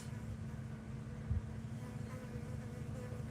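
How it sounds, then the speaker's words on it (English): A bee buzzes steadily close by outdoors near water, a continuous low drone with a slight flare partway through, fairly faint overall. "It's this really cool bee."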